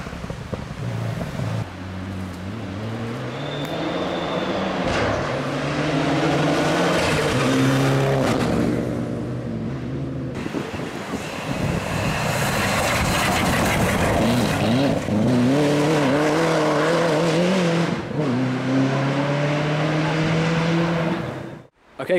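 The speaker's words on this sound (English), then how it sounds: "These cars are sounding brilliant." Rally cars race along a forest stage at the Malton Forest Rally Stages, their engines revving hard, rising and falling as they accelerate and pass close by in a loud, nearly continuous roar.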